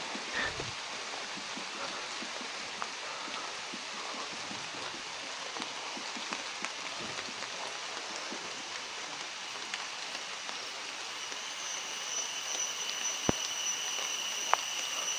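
Steady rain patters on surfaces, with scattered louder drips and taps over a constant hiss, and no voices.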